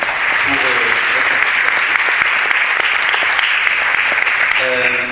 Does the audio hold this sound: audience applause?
yes